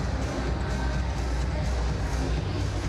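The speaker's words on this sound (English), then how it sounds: "Nice crowd filling in here at the Edmonton Expo Center on a Sunday of a long weekend." A crowd fills a basketball arena at the Edmonton Expo Center before a CEBL game between the Ottawa BlackJacks and Edmonton Stingers, a dense steady murmur of many voices throughout.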